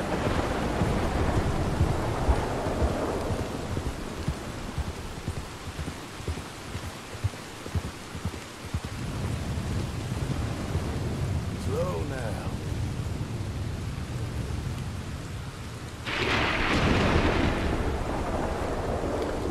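Thunder from lightning strikes during a storm in Red Dead Redemption 2 rumbles low and heavy over steady rain noise, with a sharper crack near the end and a voice talking over parts of it.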